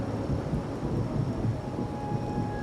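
A steady thunderstorm in the Wuthering Waves video game, a continuous deep rumble of wind and storm noise with a faint high tone above it, heard alone without any talking.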